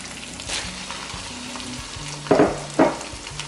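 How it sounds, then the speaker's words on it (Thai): Shrimp stir-fried in split red curry coconut milk, with pineapple in the curry, sizzling steadily while a spatula scrapes the pan in two sharper bursts near the end; no one talks. "เดี๋ยวตาก็จะใส่ กุ้งลงไปผัดค่ะ"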